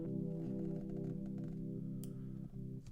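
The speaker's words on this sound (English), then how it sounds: "The third one I use in every single production is Crystallizer by Soundtoys" Soundtoys Crystallizer plugin effect processing a sustained harmonic tone, a dense shimmering pad with stacked pitched layers pulsing in a steady rhythm, loud and continuous with no talking.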